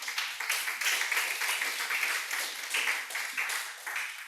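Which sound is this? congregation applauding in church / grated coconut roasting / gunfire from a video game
congregation applauding in church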